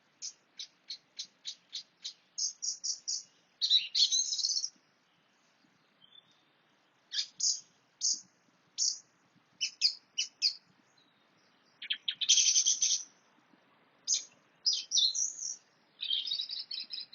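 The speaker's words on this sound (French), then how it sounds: "J'ai la chance merveilleuse d'être visitée par quelques oiseaux" Small birds chirping and singing outdoors, with quick trains of high tweets and short warbling phrases that come in bursts separated by brief pauses. The birds sound fairly close and clear against an otherwise quiet background, with no voices.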